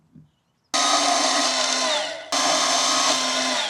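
Power tool cutting metal tubing parts for a custom toilet paper dispenser, in two loud sustained runs separated by a brief pause, with a faint knock at the start.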